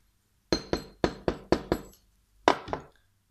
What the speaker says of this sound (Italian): Possiamo martellare giusto un po' di più